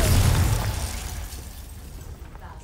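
A Confringo blasting spell goes off in Hogwarts Legacy, a loud, low burst at the start that decays into a fading rumble, with no voices.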